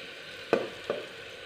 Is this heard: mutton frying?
yes